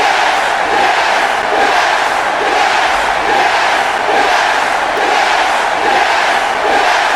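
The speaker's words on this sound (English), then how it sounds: "Crowd is going nuts with this confrontation." A large wrestling arena crowd roars and chants at a confrontation, with a loud, unbroken wall of cheering that pulses in a steady rhythmic chant.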